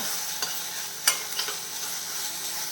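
Onions and tomato sautéing in a little oil for a raw jackfruit dish give a soft, even sizzle, with a few light spoon taps against the pan.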